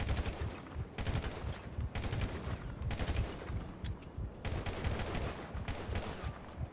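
Sustained bursts of full-auto gunfire in GTA V running the LSPDFR police mod, dense rattling volleys broken by brief pauses, steady and prominent with no voices.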